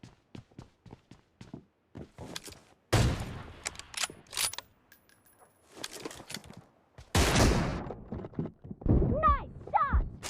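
Gunfire in a PUBG team deathmatch: sharp broadband shots in quick bursts and heavier blasts, close and loud, with brief pauses and a few metallic weapon handling clicks between volleys.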